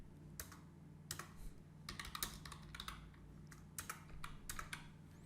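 Bursts of typing on a computer keyboard while writing a blog post, quick clustered keystrokes separated by short pauses, fairly quiet and close, with no voices.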